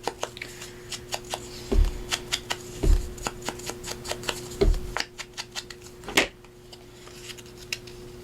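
A paper file folder folded in half by hand for a craft tab: close, crisp crackles and quick papery taps over a faint steady hum, with no one talking.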